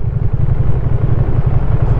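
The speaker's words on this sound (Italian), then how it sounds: "motore è uno dei migliori e più belli che abbia sentito finora" A motorcycle engine runs steadily and loudly up close, a Ducati Streetfighter V2 or KTM Duke 790 during a test ride, its low throbbing pulse continuous with no speech over it.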